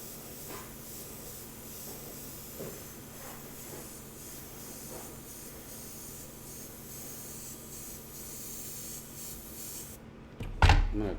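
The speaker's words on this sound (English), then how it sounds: "now we're gonna see how well this masking works with airbrush too." Continuous airbrush hiss as paint is sprayed over masking, steady and close for about ten seconds before a brief louder clatter at the end.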